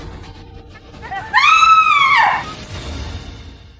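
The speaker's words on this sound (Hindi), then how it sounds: "मैंने अभी चीखने की आवाज सुनी" A woman screams behind a locked door, a single loud, sustained high cry of about one second that rises from faint sounds and fades back to a low murmur.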